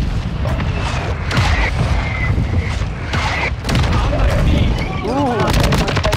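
Mortar strike explosions and gunfire in a video game, with repeated booms and crackling shots over a constant battle din while players talk throughout.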